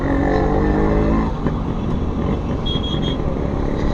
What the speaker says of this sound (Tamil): எக்கச்சக்கமான டிராஃபிக் ஜாமுங்க.